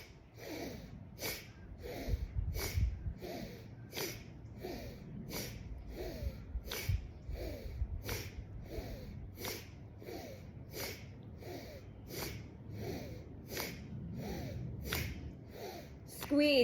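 Forceful breaths pushed out in a kundalini breathing exercise come as a quick, even train of sharp puffs, roughly one every second, fairly faint over a soft low background.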